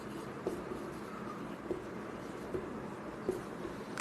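Soft, faint marker or chalk strokes during a geometry proof on a board, with several brief scratchy taps spread across a quiet room.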